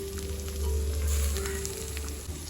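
Onion, chili and garlic sizzle and crackle in hot oil, a steady loud frying hiss with no talking.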